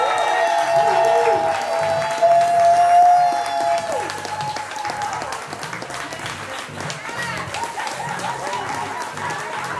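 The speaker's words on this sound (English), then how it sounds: "Y'all go ahead and start clapping, start clapping, start clapping for Poetry." Audience applause at a poetry show's five-year anniversary, loud sustained clapping from a crowd that swells early and carries on steadily throughout, with cheers mixed in.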